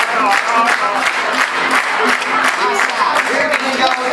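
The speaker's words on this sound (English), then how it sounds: "let me see if you can clap" An audience at a dinner-theater musical revue claps along in a dense, steady patter, with scattered cheers and voices mixed in throughout.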